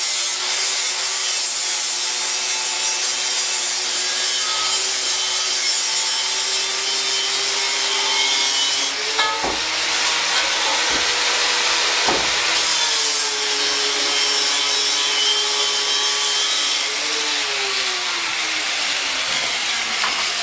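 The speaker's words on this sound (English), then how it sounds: "So we use that grinder." An angle grinder strips rust from old scrap truck metal, making a steady, loud, continuous whine with a droning motor tone that dips in pitch as the disc bites into the workpiece, with no speech.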